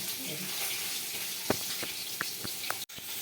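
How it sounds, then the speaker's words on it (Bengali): Potatoes and pointed gourd fry in a wok with a steady, close sizzle, broken by a few sharp scraping or stirring taps along the way. "আলু পটলগুলো আমরা ভেজে নেবো কড়াতে দিয়ে দিচ্ছি"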